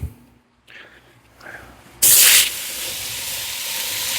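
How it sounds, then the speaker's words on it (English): Two pounds of diced bacon drops into a warmed Dutch oven and bursts into a loud, bright sizzle that settles into a steady hiss, after a few quiet seconds of faint handling. "We're going to throw in 2 pounds of bacon."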